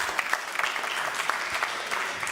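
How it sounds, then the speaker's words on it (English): A synagogue congregation at Shabbat services applauds steadily for a birthday, a dense, even patter of many hands clapping at moderate distance, sustained throughout without voices. "Everyone give this woman a round of applause."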